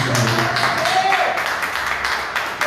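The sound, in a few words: congregation clapping in praise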